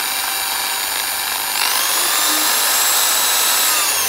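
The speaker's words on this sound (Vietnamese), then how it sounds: "anh em tiếp tục khoan bên nữa này" A power drill bores holes while making a swivel hook for a trap cage, a loud, steady whine whose pitch climbs partway as the bit works through the material.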